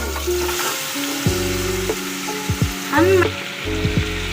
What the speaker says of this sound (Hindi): अब हम मटन को तब तक फ्राई करेंगे जब तक इसका कलर चेंज ना हो जाए